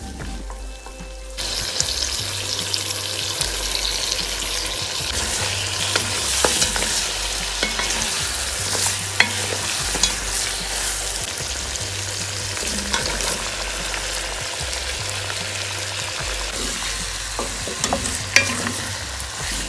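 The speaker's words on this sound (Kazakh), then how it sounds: "қызанақты, балдар бұрышын, картоп пен сәбізді салып қуыратын боламыз" Tomatoes, bell peppers, potatoes and carrots sizzle and fry steadily in a hot pan, a dense crackling hiss with occasional clinks of stirring throughout.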